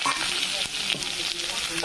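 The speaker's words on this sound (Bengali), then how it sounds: "ভালো করে ভেজে নেব" Potatoes and vegetable stems frying in a pan after a tempering of spices, giving a bright, steady sizzle with a few stirring scrapes over a short burst.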